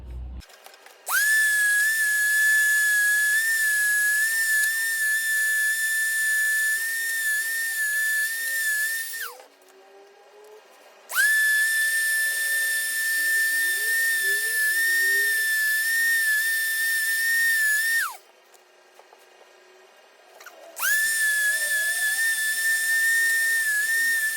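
A power sander works on a wooden piece in three long sustained bursts, a steady high-pitched whine with a bright hiss, separated by short pauses.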